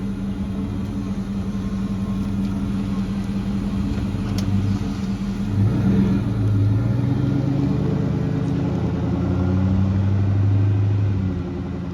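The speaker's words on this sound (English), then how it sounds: "I always get footage of my wife driving off when she takes it places." A Ford Mustang GT pulls off from a parking spot on grass, its engine rumbling low and building as it drives away, steady and moderately loud with no talk.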